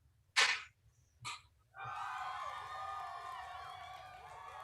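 Applause sound effect at a book club gathering: two short bursts, then a steady, fairly loud wash of clapping and cheering that holds to the end.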